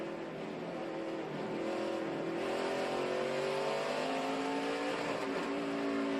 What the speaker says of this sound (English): You can hear the car just stumble and shut off.